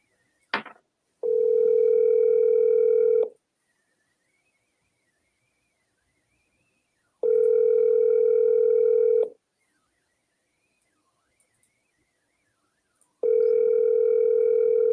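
An outgoing phone call to a broker rings out with three long, loud electronic ringback tones separated by silent pauses, following a brief click at the start.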